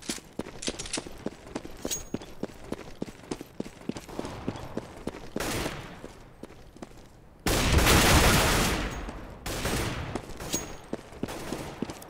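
Gunfire in Counter-Strike on the de_dust2 map during a professional esports match: rapid rhythmic shots ring out, followed by a loud dense burst, then further scattered shots with no voice over them.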